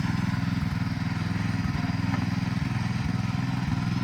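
A 1967 Sears Super 12 motorcycle engine runs steadily in third gear, a close, loud, continuous buzzing drone with a fast, even pulse and no break or voices.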